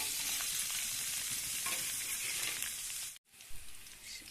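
Boiled taro fries in oil with cinnamon, cloves, cardamom and bay leaf while it is stirred, giving a loud, continuous close sizzle that breaks off briefly near the end and then resumes.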